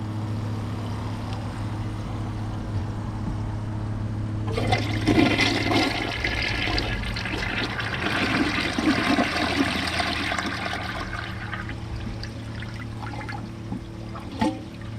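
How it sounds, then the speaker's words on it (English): A Champion 4 toilet flushes with a loud, sudden rush of water that swirls and gurgles for several seconds, then tapers into a trickling refill, preceded by a low steady background hum. "That was the longest flush I've ever seen on a Champion 4."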